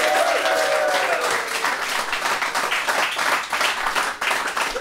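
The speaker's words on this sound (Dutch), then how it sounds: "Maak een groot applaus voor Geert-Anne van der Bos, Jacob Wassenaar, Tek" An audience in a café gives a long burst of dense applause that is loud and sustained, with a brief crowd murmur at the start, before it gradually thins near the end.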